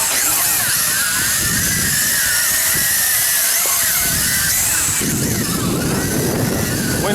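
A WLToys Galaxy V353 quadcopter flies and flips outdoors in wind, its motors giving a loud, steady high-pitched whine that shifts in pitch as it maneuvers, with wind rumble underneath.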